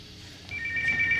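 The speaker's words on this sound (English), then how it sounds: "Somebody get the phone." A telephone starts ringing partway through with a thin electronic trill, moderately loud and close, following a quiet room tone with no talking.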